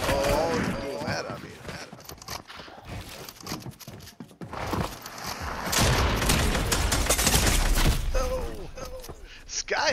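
Assault rifle gunfire in the Fortnite video game, loud dense bursts and booms across the clip, with voices talking over the shooting.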